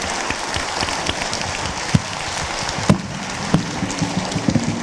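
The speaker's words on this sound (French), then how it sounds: "On vous applaudit une nouvelle fois." A lecture audience gives sustained applause, dense crowd clapping with a few louder individual claps and knocks standing out near the listener, steady from start to finish.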